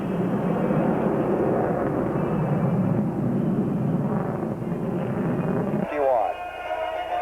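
A propeller airplane at a 1993 Dayton air show drones loudly and steadily as it banks around to set up for landing, with the engine note shifting near the end and a voice talking over it.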